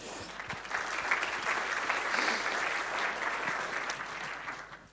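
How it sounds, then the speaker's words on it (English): Audience applause at a tech conference talk, a dense, even round of clapping from a moderate distance that holds steady and fades out at the end. "Round of applause."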